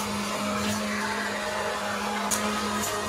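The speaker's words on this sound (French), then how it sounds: "on va commencer à mixer pour bien incorporer le beurre et apporter beaucoup d'onctuosité à notre crème mûre" Kitchen blender whirring steadily as it blends a blackberry cream with butter, a continuous motor hum with a steady tone, close and fairly loud, with no talking.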